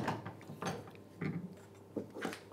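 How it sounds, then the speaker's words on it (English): A wooden piece is clamped in a bench vise, giving a few short mechanical clicks and ratcheting turns in separate bursts, close up with no talk. "I clamp it in the vise."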